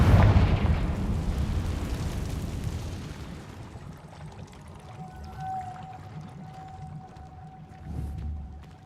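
A Confringo fire-spell explosion in the video game Hogwarts Legacy: a loud, deep blast that rolls and rumbles for several seconds before fading to a quieter crackling tail.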